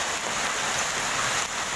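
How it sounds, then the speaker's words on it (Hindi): Dry hailstones fall heavily in Delhi, a dense continuous clatter and hiss of ice striking surfaces, loud and steady with no voices. "सूखे ओले ये पड़ रहे हैं"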